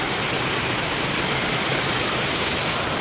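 Steady rain falling outdoors on a rural Indian farm, a broad continuous hiss filling the scene evenly from start to finish with no breaks or voices.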